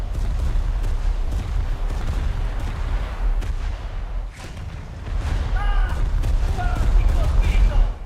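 Heavy naval guns firing from warships in a video game, booming loudly and almost nonstop over a low rumble, with someone talking over parts of it.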